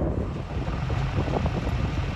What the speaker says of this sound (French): dehors il y a trop de vent